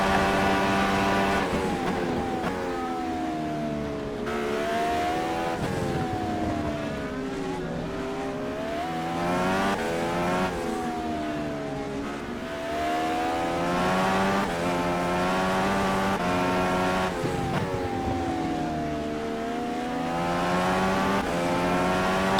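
IndyCar race cars lapping the Mid-Ohio circuit in a racing video game, with engines howling and rising and falling in pitch through repeated gear changes, a loud, continuous roar from start to finish.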